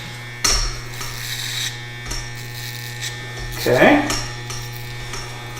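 Electric hair clippers buzzing steadily as they cut up the back of the head toward the occipital bone, a close, constant motor whine with brief louder bursts as the blade passes through hair, and one short spoken word.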